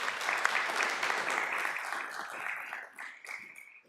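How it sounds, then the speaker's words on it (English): Applause from the audience at a community college board of trustees meeting, dense clapping that holds steady and then thins out toward the end as individual claps stand apart. "one more time, big round of applause for them."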